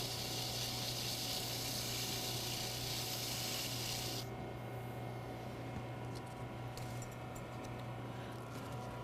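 A turned wooden Christmas ornament is sanded and polished on a lathe, producing a loud continuous abrasive rubbing over a steady motor hum; the bright hiss drops away about halfway through, leaving the lathe droning alone.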